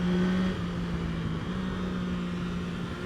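A 2025 Yamaha Tracer 9 GT+ sports touring motorcycle is ridden hard in sport mode on a twisty road. Its engine holds a steady, droning note that shifts pitch slightly, with a constant rush of wind and road noise.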